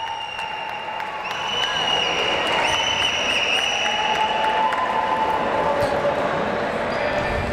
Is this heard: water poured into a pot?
no